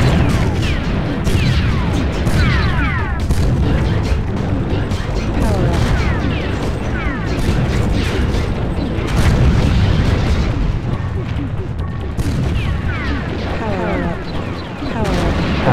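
Tank cannons and guns fire in the BattleTanx video game, with a dense, continuous run of booms and bursts that overlaps speech throughout.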